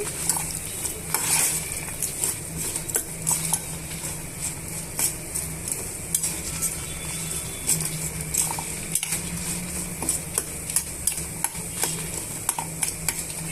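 Okra and peanuts fry in a pan for chutney, with a sizzling bed under repeated metal spoon scrapes and clinks while being stirred, close and fairly loud.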